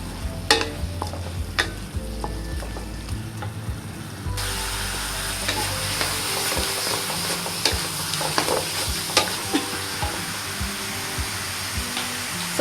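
A spatula stirs kung pao chicken frying in a pan with a teaspoon of sesame oil, sharp scraping clicks over a constant loud sizzle that swells after the first few seconds, with no speech.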